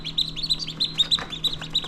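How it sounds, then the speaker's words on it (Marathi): Newly hatched ducklings in an incubator give rapid, high, repeated peeps in a quick irregular rhythm, close and clear over a low machine hum. "ही बदकाची पिल्लं आहेत"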